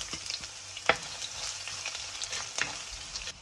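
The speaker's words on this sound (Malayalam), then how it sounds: "ഇനി നമുക്ക് അരിഞ്ഞു വെച്ചിരിക്കുന്ന ഇഞ്ചിയും വെളുത്തുള്ളിയും ചേർത്ത് കൊടുക്കാം." Chopped ginger and garlic sizzle in hot oil for a Kerala-style coconut fish curry, just after mustard seeds have popped. The frying makes a steady, close crackle with a few sharper pops, and no one talks.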